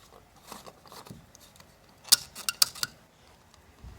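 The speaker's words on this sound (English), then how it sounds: "And put our gas cap back on" A cluster of sharp plastic clicks and clacks as the gas cap goes back onto a Toyota Tundra fuel filler, several quick snaps close to the microphone amid faint handling noise.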